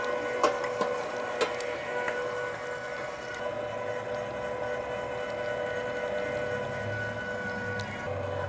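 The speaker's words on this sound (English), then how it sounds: "this first pass through, we've got the partially frozen pork, no seasonings, on a coarse grind" LEM electric meat grinder coarse-grinding partially frozen unseasoned pork, a steady tonal motor whine with a few sharp clicks and crunches early on, continuing close and evenly throughout.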